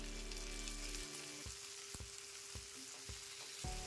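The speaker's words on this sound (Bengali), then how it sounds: "পেঁয়াজ ভাজার সময় পেঁয়াজের উপর একটা লম্বা করে কেটে নেওয়া টমেটো কুচি দিয়ে দেব।" Sliced onions and chopped tomato fry in a pan for a Bengali fish curry, a soft continuous sizzle broken by several dull thumps of stirring at roughly half-second intervals.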